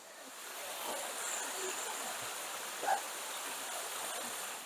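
Constant distant roar of a waterfall in New River Gorge, West Virginia, a soft steady wash with a brief faint bump near the end; no one speaks.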